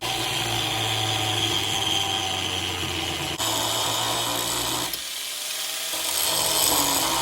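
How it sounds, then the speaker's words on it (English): A power tool grinds loudly and continuously up close while gutting a van interior, a harsh whining, rasping roar that shifts in pitch as it bites into the material. "It's always fun when you got power tools, so let's get to grinding."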